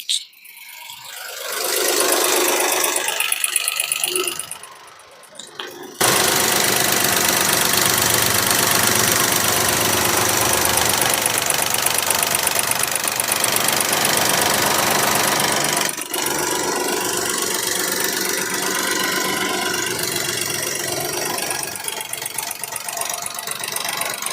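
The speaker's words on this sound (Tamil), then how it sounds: "இப்போ வண்டியோட இன்ஜின் சவுண்டை நான் மைக்கை பக்கத்தில் வச்சு எப்படி இருக்குன்றதை காட்டுறேன்." 2016 Nissan Micra petrol engine idling close up, a steady rattling hum with a soft knocking rhythm, after brief handling noises at the start.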